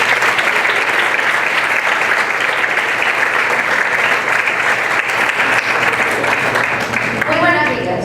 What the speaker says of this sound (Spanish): con un fuerte aplauso, recibamos a Yomara Moreira